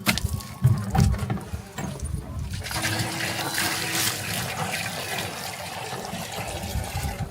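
Water is drawn and poured in a nomadic village in Afghanistan, a steady, close gushing stream that starts with a few knocks and runs on continuously.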